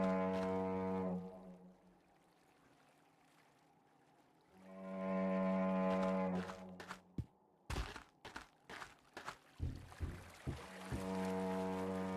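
A deep, droning foghorn blasts twice with a long pause between, followed by a series of hollow knocks and thumps before the horn sounds again.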